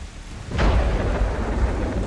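Thunder and rain from a tabletop Tomb Raider role-playing session: a low rolling thunder rumble swells in about halfway through and carries over a steady, hissing rainfall, with no voices.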